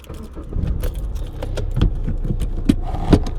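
A car engine starts at a driving school lesson, with keys jangling and a brief cranking rumble settling into a low idle, close up inside the car, with no talking.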